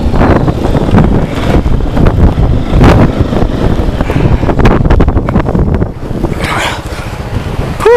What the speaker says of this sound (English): Wind's coming up even more now.